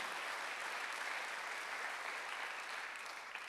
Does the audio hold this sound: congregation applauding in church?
yes